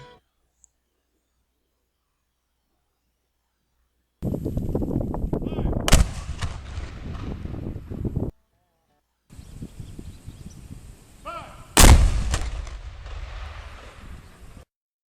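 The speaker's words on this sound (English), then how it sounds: "the fort put on a demonstration of firing both the howitzer and the Parrott cannon" Two heavy booming blasts from Civil War howitzer and Parrott cannon firing at Fort Pulaski, Georgia, ring out about six seconds apart, each a sharp loud report followed by rumbling noise that trails off.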